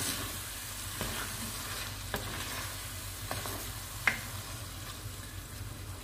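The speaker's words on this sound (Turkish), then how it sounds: "Şu an 1-2 dakika kaynasın etle birlikte." Meat simmering in its sauce in a pan, a soft steady bubbling sizzle with a few faint clinks, quiet and close with no speech.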